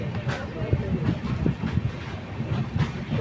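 An LHB coach of the Paharia Express rolls into Kanthi railway station, giving a steady close rumble with a rhythmic clickety-clack of wheels over rail joints throughout.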